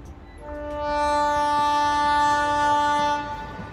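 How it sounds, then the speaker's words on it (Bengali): A train horn blows a long, steady multi-tone blast as a passenger train pulls away in a Bengali audio story, swelling in and holding for about three seconds before cutting off. "খেয়াল হলো ট্রেন নড়ে উঠতে।"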